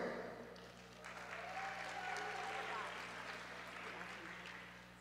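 Faint applause from an audience at a high school senior awards ceremony, soft continuous clapping in a large hall under a speaker's voice.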